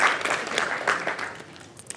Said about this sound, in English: Clap louder.